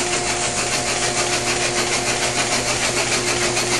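A Chevy II 181 cubic-inch engine with mechanical fuel injection, large valves and a long-duration camshaft runs on a test stand, giving a loud, steady, continuous drone with an even rhythm throughout.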